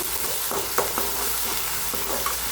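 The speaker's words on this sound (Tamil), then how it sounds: "கஸ்தூரி போட்டால் பிறகு வெங்காயம் போட்டுக்கலாம் இப்போ நல்லா வதங்கட்டும்" Onion paste and kasuri methi sauté in a hot pan for a chana masala gravy, giving a steady, close sizzle broken by a few soft scraping stirs.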